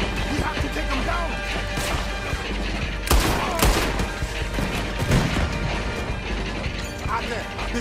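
Gunfire erupts in the Red Dead Redemption 2 video game, scattered loud shots and crashing impacts over a busy, dense background of mechanical noise and action.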